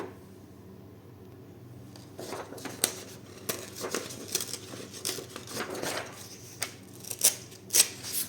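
Scissors snip through a supermarket catalogue page with soft, uneven crisp cuts and rustling paper, quiet and close, starting after a brief hush.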